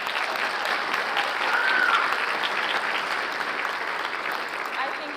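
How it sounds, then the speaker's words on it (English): An awards ceremony crowd claps steadily and loudly for several seconds, a dense, even wash of applause with no talking over it. "One more round of applause."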